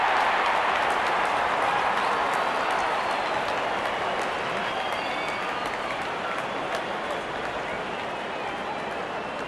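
A large crowd at a cricket match cheers and applauds steadily as the openers walk out, a dense continuous roar with no breaks throughout.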